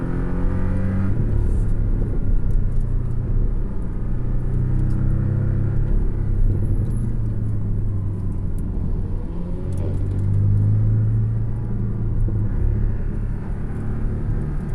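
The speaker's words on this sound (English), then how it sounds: "PDK letting us downshift into first." A Porsche 718 Cayman S with a PDK gearbox rumbles and drones loudly from inside the cabin as it downshifts into first, with the engine note rising and falling briefly over steady road and tyre noise.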